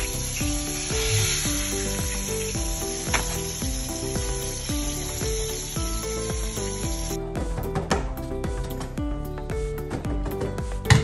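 Fish fries in hot grease, a dense, steady sizzle that runs close and loud throughout, with no talking.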